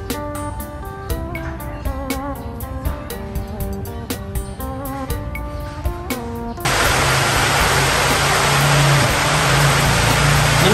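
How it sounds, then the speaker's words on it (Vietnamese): Rain starting to fall outdoors while someone tries to light a cooking fire for grilling beef rolls, a sudden loud broadband hiss of rainfall that sweeps in and holds steady after a stretch of busy background noise. "Nhóm lửa chưa cháy nữa mà trời mưa tới nữa cả nhà ơi."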